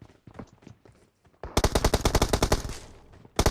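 Rapid automatic gunfire from the PUBG Mobile battle royale game, a loud sustained burst of dozens of evenly spaced shots after quieter footsteps and small noises, then one final shot at the end.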